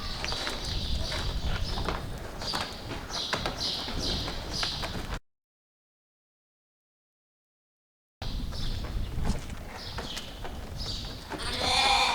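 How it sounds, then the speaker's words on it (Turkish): Sheep with their lambs in a barn, with repeated bleats and calls over shuffling hooves and general livestock noise, broken by a short stretch of silence midway. "İçeride kuzulu koyunlar var."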